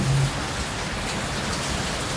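Heavy rain from Typhoon Ofel pours down in a dense, steady roar with strong wind, loud and continuous throughout.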